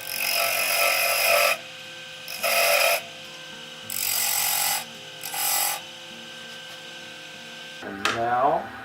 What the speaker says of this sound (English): I'm going to start with the parting tool, so I can lay out exactly where my wire is going to go